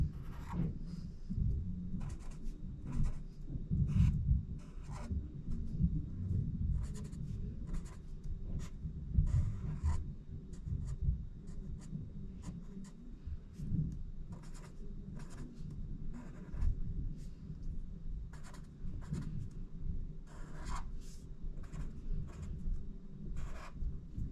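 A pen or marker drawing simple faces on circles on paper, steady close scratching and scribbling strokes throughout with a faint background hum.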